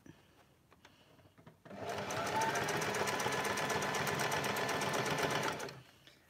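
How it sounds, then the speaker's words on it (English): A sewing machine stitches a garment mock-up, starting after a quiet moment and then running in a steady, fast, loud mechanical whir with rapid needle rhythm for several seconds before stopping. "it generally just sews along anyway it's just a matter of guiding it on"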